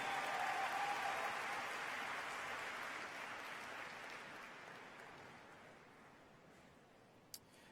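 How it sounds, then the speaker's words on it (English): Graduation audience applause for a high school valedictorian at the 2019 Manvel High School ceremony, a broad, sustained wash of many hands clapping from a large crowd that slowly fades, heard from a distance. "let's give one more round of applause for our valedictorian, Hannah Kennan."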